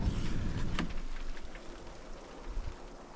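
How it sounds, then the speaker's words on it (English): Soft, styrofoam-like hail falls around a van campsite near Sunset Crater Volcano, a steady close patter and hiss that is strongest at the start and eases slightly, with no voices. "we got this, like, you know, that styrofoam hail type stuff"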